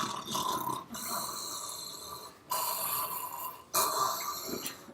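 A voice imitates a sleeping man's loud snoring during a lecture on the autonomic nervous system, producing three long rasping snores close up, each followed by a short pause.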